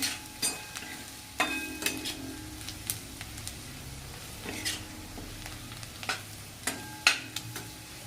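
A spoon stirs onion chutney with fried wadis (sandge) in a pan, giving irregular scraping and clinking strokes over a soft frying sizzle, close and fairly loud.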